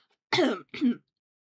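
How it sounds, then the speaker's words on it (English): Two quick, harsh coughs in close succession, close and fairly loud, in an otherwise quiet room. "Sorry for the cough."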